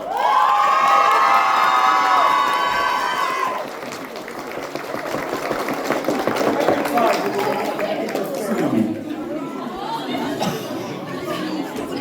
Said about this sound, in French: Allez, les applaudissements encore une fois, bien fort